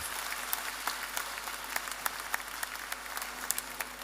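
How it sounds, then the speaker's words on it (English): A packed room of young people at a youth empowerment summit claps in a short round of applause, moderately quiet with individual sharp claps standing out from the steady patter. "Give a round of applause to yourself."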